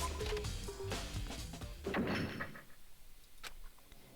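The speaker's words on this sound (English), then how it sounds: "As soon as the door to the data center was closed, I heard a strange sound." A door slides shut with a thunk in the Danganronpa video game, followed by faint clicks and a sharp later knock, set against a dense layer of game ambience and music.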